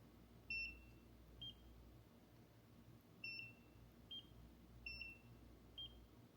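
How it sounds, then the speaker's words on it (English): A Nira at-home laser skin device gives short electronic beeps, repeating in a steady pattern of three clusters over a quiet background hum, faint and close. "and then gives you a little beep."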